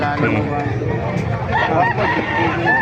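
Gamefowl chickens clucking with a rooster crowing amid a busy, noisy background at a gamefowl gathering in Bocaue, Bulacan, with people talking over the birds throughout.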